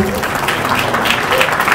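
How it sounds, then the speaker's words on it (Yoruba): A crowd at a ceremony honouring a Yoruba princess applauds in a dense, steady wash of clapping that fills the short stretch at an even level. "ẹ bá mi pàtẹ́wọ́ fún ìyá wa"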